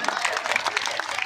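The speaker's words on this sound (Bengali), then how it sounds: "হাততালি অভিনন্দন" An audience at a school prize-giving ceremony bursts into a brief, dense round of clapping with crowd murmur mixed in.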